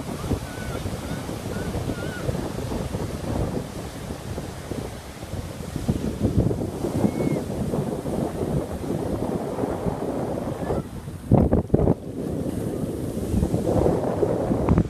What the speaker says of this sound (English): Waves are nice.